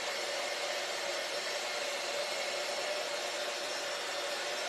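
A hair dryer blows steadily on a rice paper washboard craft piece, giving a constant loud whooshing roar with a faint whine that holds for the whole stretch, no voices heard.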